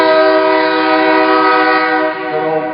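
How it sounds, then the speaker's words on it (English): A long freight train rumbles by close and loud, its horn blaring steadily the whole time over the rolling cars, with no talking. "I think we're gonna have to wait for this train to go by to continue on"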